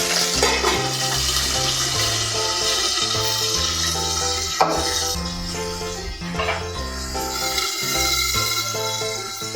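Curry leaves and manathakkali berries fry in hot oil for a kuzhambu, giving a continuous crackling sizzle over a steady low tonal hum.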